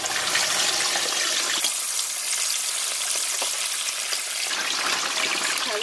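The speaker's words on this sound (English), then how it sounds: "We will put in the fish only when the oil is very hot." Fish sizzles and spits in very hot oil for a Thai sour curry, a loud, steady crackling fry heard close up with no voices over it.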